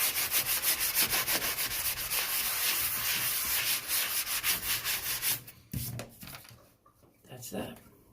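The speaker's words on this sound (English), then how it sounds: "Lastly, take a little sand block." A small sanding block rubs over a drywall patch where torn paper and recessed nails were repaired, giving steady close scratchy strokes for about five seconds before it stops and scattered handling noises follow.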